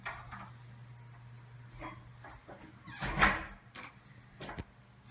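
The front door of a house opens with a short rattling, wooden thump and creak partway through, surrounded by quiet footsteps and light handling noises in an otherwise hushed entry.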